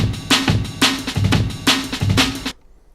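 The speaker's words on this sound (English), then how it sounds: "So now we've got this breakbeat sounding like this." A punchy drum breakbeat pitched up three semitones plays alone, with a bright, slightly high-pitched kick and snare pattern looping in a quick rhythm before stopping abruptly.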